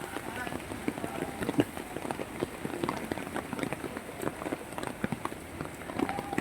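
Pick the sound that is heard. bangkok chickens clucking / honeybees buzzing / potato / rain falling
rain falling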